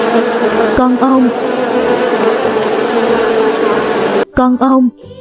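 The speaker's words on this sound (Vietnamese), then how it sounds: "Con ong." A bee buzzes in a steady, close drone that holds for several seconds, then breaks into shorter bursts near the end, with no talking.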